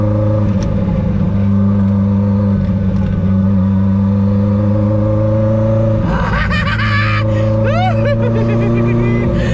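A Renault Maxi 5 Turbo rally car engine drones loudly and steadily close by, then revs and accelerates with rising pitch sweeps toward the end, with voices and laughter mixed in.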